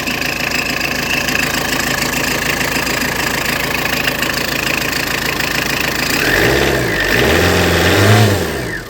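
A Tata Indica V2 diesel car engine being repaired runs close by with a loud, steady knocking idle, then revs up and drops back a few times near the end.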